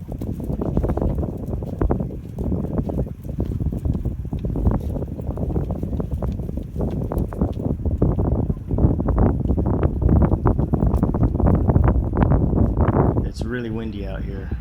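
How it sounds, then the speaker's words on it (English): Gusty wind on an August walk in San Francisco buffets and rumbles against the microphone in constant low, blustery bursts, close and loud throughout. "It's really windy out here."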